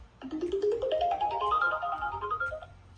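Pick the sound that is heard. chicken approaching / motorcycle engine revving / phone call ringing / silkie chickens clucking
phone call ringing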